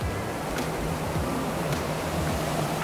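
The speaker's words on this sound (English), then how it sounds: "Here's a great big waterfall fountain." A large waterfall fountain splashes steadily in a tidy garden setting, a continuous broadband wash of falling water close by with no talk over it.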